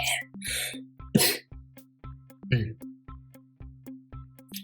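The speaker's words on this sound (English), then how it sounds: "coughing, so annoying." A person coughs a few sharp times during a gaming session, the short rough bursts standing out over quiet, rhythmic game tones.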